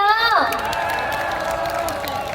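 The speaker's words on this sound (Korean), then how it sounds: "박수 한번 보내주세요." A festival crowd at an outdoor stage show in Daegu cheers and claps steadily, with a few shouts rising over the broad, continuous applause.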